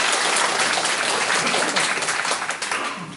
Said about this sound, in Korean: 다시 한번 큰 박수로 맞이해 주시기 바랍니다